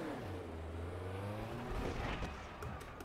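A race car spinning a donut on a circuit near Paddock Hill, its engine droning and shifting pitch continuously with tyre noise, loud and close throughout with no speech.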